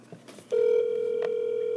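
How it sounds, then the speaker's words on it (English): A telephone call rings on speakerphone, a steady electronic ringback tone starting abruptly after a moment of quiet and holding loudly to the end. "Alright, guys, it's ringing."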